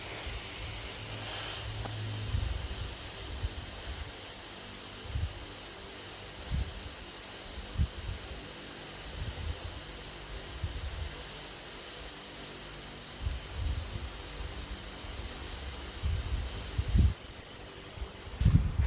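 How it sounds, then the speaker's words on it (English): An aerosol can spraying penetrating oil onto a bolt head on an old John Deere A tractor, a steady close hiss held for most of twenty seconds with faint low knocks underneath, then it stops. "I'm gonna spray it right on that bolt head for about 20 seconds."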